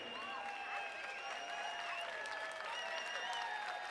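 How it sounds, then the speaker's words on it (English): Arena crowd at an Island Fights MMA event applauding two fighters in the ring, a steady, moderately loud wash of clapping and crowd noise with whistles and tonal sounds layered over it throughout. "how about a round of applause for these two men inside the ring?"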